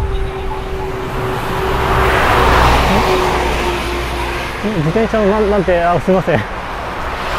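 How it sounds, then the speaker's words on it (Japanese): A truck rolls past on a road during a rainy bicycle tour, its engine noise swelling to a loud broadband rush at mid-clip and fading, with someone talking over the end. "トラックの走行音で。"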